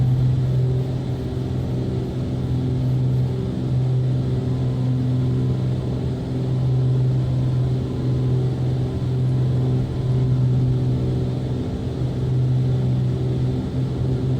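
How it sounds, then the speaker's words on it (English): A piston aircraft engine in the Black Square Duke flight simulator rumbles with a steady droning hum and low harmonic tones, holding an even loud level throughout with no voices. "if I turn on the magnetos and introduce fuel, it's like starting the engine. It will actually ignite."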